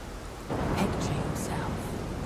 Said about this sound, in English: the thunder is making me not being able to hear you